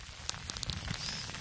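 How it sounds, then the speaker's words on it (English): Freezing rain during an ice storm patters steadily, soft and faint, with scattered sharp ticks of ice landing on outdoor surfaces. "the freezing rain is accumulating like snow again"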